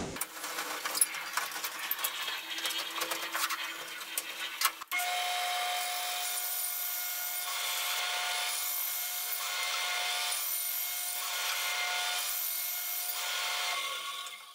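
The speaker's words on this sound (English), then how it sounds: "Now I'm going to tilt the head of the saw to a 45." A table saw with its head tilted to 45 degrees trims the corners off a wooden block being readied for a lathe. Rough, uneven cutting noise runs for about five seconds, then a steady, sustained whir with faint pulsing continues to the end, with no talk.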